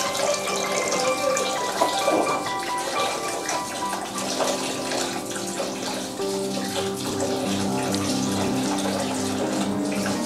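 Water runs steadily from a tap while carrots are washed, a continuous close splashing rush with slight shifts in tone, no one talking over it.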